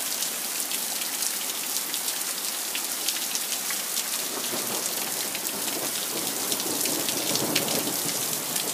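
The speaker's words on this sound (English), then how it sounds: "First major thunderstorm of the year." Steady, close rain hammers down without a break during the first major thunderstorm of the year in Edmonton, Alberta, a dense even wash of drops on surfaces with no talk over it.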